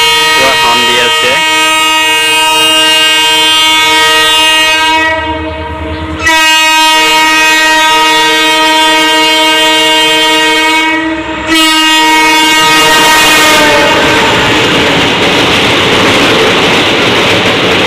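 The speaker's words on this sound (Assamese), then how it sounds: "ট্ৰেইন পূৰা আহি আছে, আগৰতলা যাব, শিলচৰ টু আগৰতলা ট্ৰেইন" The Silchar to Agartala train races past at full speed, its horn sounding in long loud blasts broken by brief pauses, then giving way to the heavy roar and clatter of wagons rushing close by.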